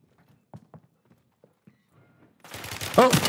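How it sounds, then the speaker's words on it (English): Gunfire in Call of Duty Warzone: faint scattered footsteps and thuds give way to a sudden loud burst of rapid shots and impacts near the end, with a voice reacting over it. "Oh, someone's shooting me."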